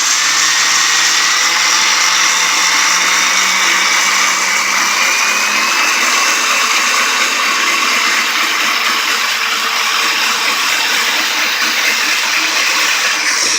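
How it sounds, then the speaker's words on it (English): A power drill boring a hole in a wall beside a home heater thermostat, a loud continuous whine held steady throughout with a faint rising tone, no speech. "Okay, we got the hole drilled in there."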